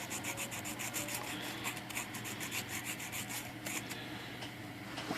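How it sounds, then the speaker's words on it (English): Sandpaper rubs back and forth along the edge of a clip to remove a burr, quiet repeated scratchy strokes in an even rhythm, close up, without speech. "So I'm going to put some sandpaper on my clip like this and rub it on this edge here"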